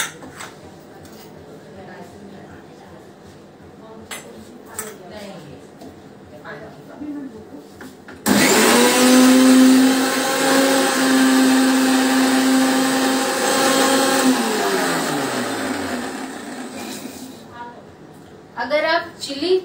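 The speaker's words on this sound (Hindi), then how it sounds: "इसको ग्राइंड करना है।" Kitchen blender grinding mango pulp, starting abruptly with a loud steady whir and a rising motor whine that runs about ten seconds before winding down; someone talks softly before it starts.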